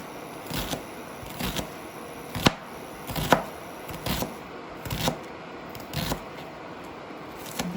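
An onion is chopped on a cutting board in a home kitchen while making meatballs, with about eight distinct knife thuds at a slow, uneven pace, close and fairly quiet, with no talking.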